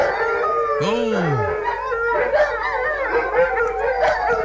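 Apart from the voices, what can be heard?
husky dog howling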